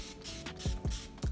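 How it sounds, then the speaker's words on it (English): A handheld spray bottle misting water onto hair while styling it for a wash-and-go routine, giving three or four quick, close hissing bursts at a steady rhythm. "I'm gonna spray my hair with water first."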